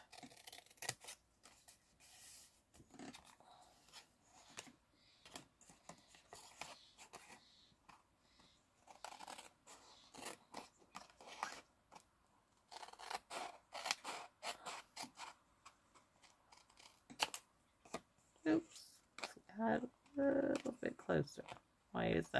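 Scissors trim cardstock for a stamped holiday card, snipping in many quick irregular cuts close up, with someone talking intermittently over the cutting.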